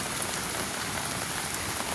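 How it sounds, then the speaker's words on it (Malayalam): Steady rain falls outdoors as a dense, even hiss of drops on surfaces, continuous and fairly loud with no voices. "ഇതാ മഴ പെയ്തു"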